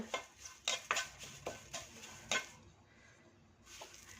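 A spoon scrapes and clinks rhythmically against a pan while curry leaves are stirred and roasted, with soft frying underneath, then the strokes pause and quieter sizzling carries on, with no talking.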